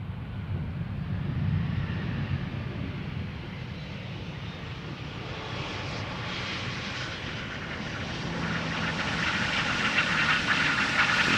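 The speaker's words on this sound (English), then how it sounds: "Air Arabia Maroc arriving from Nador in Morocco is this." An Air Arabia Maroc airliner arriving from Nador lands at Amsterdam Schiphol, a steady broadband engine roar with a low rumble that swells and brightens toward the end as it passes close.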